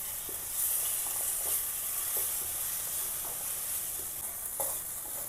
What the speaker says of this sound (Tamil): இதில் நம்ம இஞ்சி பூண்டு பேஸ்ட் போட்டுக்கலாம்.